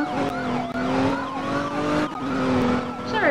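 Video-game car tires screech and skid in long, wavering squeals, with a siren-like wail mixed in, loud and continuous.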